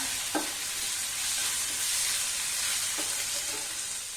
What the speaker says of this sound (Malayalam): നന്നായി ഇളക്കി കൊടുക്കാം